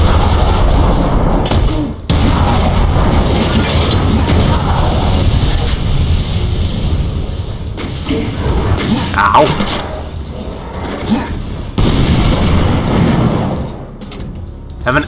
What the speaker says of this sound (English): anti-tank rifle